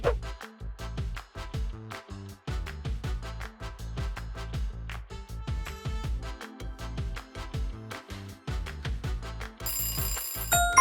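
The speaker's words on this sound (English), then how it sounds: "It's an old phone." Old telephone bell ringing in rapid repeated bursts, a sharp metallic jangle with short pauses between rings, close and fairly loud, with no talking.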